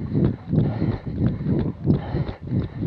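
A horse being ridden, its hooves striking the ground in a steady clip-clop rhythm of about two beats per second, close and prominent over some wind noise.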